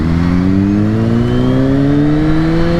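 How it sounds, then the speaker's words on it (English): Steady engine note of a supercharged 2021 Kawasaki Z H2 motorcycle cruising, loud and close, with a smooth rising whine and flutter held throughout, no talk. "it's pretty awesome just to cruise this thing around and hear that supercharged flutter."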